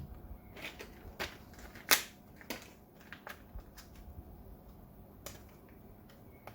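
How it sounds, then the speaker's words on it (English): Wire cutters snip magazine wire terminals on an airsoft gun, giving a handful of sharp, close clicks and snaps scattered over quiet background, one noticeably louder than the rest. "Now we can cut our mag terminals."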